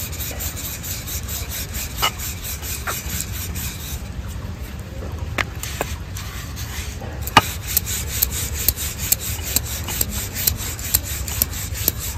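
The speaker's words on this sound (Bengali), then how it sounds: "এবার রুটিগুলো বেলে নেবো।" A rolling pin works roti dough on a board in a village kitchen, a steady soft rubbing and scraping with occasional light knocks, close and continuous with no talking.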